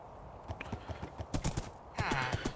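Horse hooves clip-clop in the Minecraft video game, a rhythmic run of quick hollow knocks, with a soft whinny-like tonal sound near the end and faint game ambience beneath.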